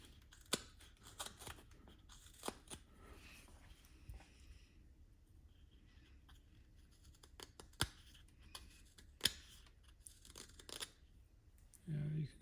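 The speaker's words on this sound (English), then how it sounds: "It's cutting fairly smooth across the end grain." A pocket knife modified for carving shaves across the end grain of wood in soft, scattered scraping strokes with occasional sharper clicks, faint and close, under low background noise with a brief hum at the end.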